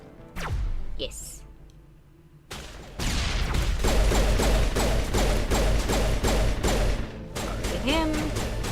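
Gunfire in the video game Mass Effect comes in rapid, repeated bursts of shots that dominate the middle of the clip after a quieter opening, with a voice speaking briefly.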